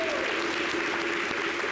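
Dense crowd applause, loud and continuous throughout the short stretch.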